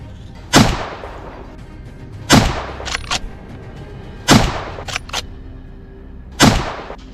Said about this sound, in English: My first shot struck its shoulder.